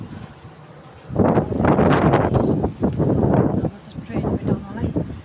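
Strong wind buffets the microphone at a UK train station, loud gusty roaring that surges after a quiet first second and keeps pulsing to the end, with a voice speaking over it.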